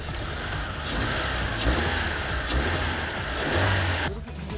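A car engine with a knocking number 2 cylinder revs repeatedly, rising and falling in pitch, loud and close, before cutting off abruptly near the end.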